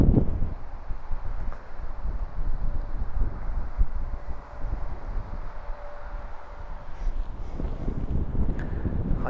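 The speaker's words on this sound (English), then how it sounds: "it's a little bit windy for me to get that" Steady wind buffeting the microphone outdoors on a golf course, a constant low rumble with rustling, no voices.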